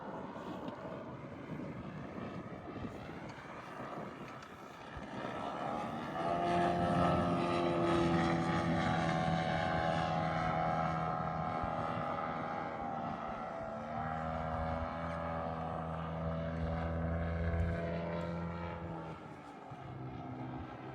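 A propeller airplane flies at an airfield, its steady engine drone swelling louder mid-pass with shifting harmonic tones, then easing slightly as it continues, heard alone without talk.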